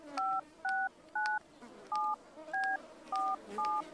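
Telephone keypad being dialed to call a doctor: seven crisp, evenly spaced touch-tone beeps, each a short steady dual tone, with quiet background noise between.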